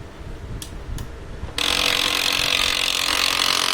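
An HP LaserJet printer gives two faint mechanical clicks, then switches on with a sudden loud, steady whirring and rattling as its paper pickup mechanism runs continuously.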